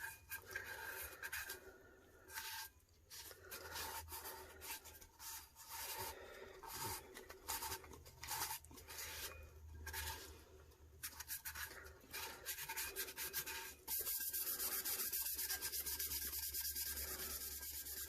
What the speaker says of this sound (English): So definitely give it a good burnishing.